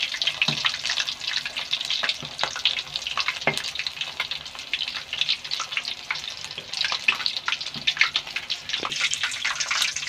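Whole chicken sizzling in hot oil, a steady crackling fry with scattered pops and spits throughout, close and fairly loud with no voices.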